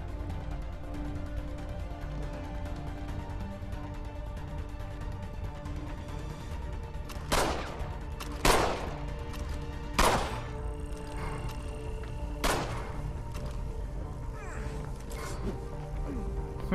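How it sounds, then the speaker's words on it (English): Enemy gunfire in an elevator bay in Assassin's Creed 3: four sharp, separate shots a second or two apart, moderately loud, over a quiet steady game background. "now I got a dude shoot at me in the elevator bay"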